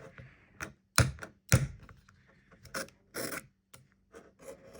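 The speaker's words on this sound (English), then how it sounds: "That's scratching." The back cover of a Motorola Razr V3 phone is scratched up close in short, sharp rasping strokes, some louder than others, in a quiet setting without talk.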